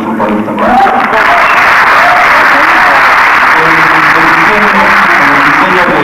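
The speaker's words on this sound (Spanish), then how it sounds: "Un aplauso para él también." Dense, loud applause from a concert audience at the Auditorio Nacional in Mexico City, steady and sustained throughout after a brief opening, with crowd noise blended in.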